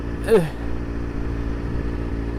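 A motorcycle ridden on an open road gives a steady, close engine drone, with a brief surge just after the start and then an even hum throughout.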